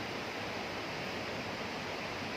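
Tat Mai Hia waterfall roars in a steady, dense broadband rush of falling water, constant and close with no pauses or voices.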